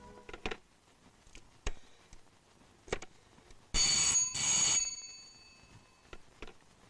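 An old landline telephone bell in a home rings in one loud, sustained burst in the middle, set among scattered sharp knocks and clicks in an otherwise quiet room.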